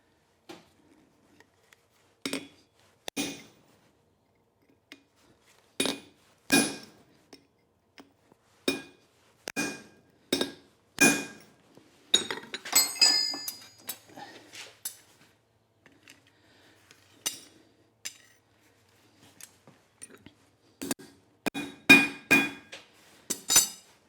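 A hammer strikes forged steel while punching a hole into a simple bottle opener: sharp metallic blows ring out singly and in quick clusters, with quiet pauses between, and one stretch of rapid lighter taps midway.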